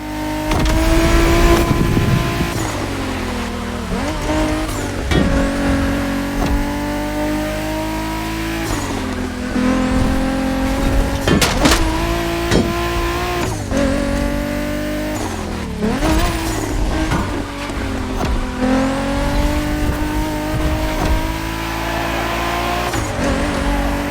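Race car in The Crew Motorfest driving game, its engine loudly and continuously revving through repeated gear shifts as it accelerates, with brief tire noise between the climbs.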